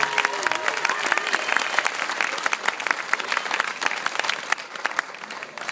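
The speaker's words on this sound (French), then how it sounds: "On applaudit très fort cette demoiselle, s'il vous plaît." An audience at a singing contest final applauds a young female singer, dense sustained clapping that fills the room evenly, with a voice or two faintly mixed in.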